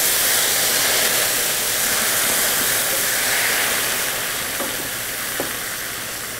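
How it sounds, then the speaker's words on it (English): Steady, loud sizzling hiss of wine poured into a hot pan, with a few faint clinks near the end. "We'll just pour this in and get a little sizzle."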